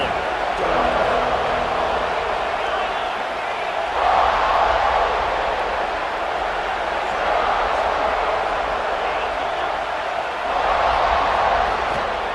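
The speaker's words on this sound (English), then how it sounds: "This crowd ready to make its presence known." Stadium crowd noise from the College Football 26 video game during a Notre Dame versus Texas Longhorns matchup, a steady roaring wash of fans with swells, heard under continuous play-by-play commentary.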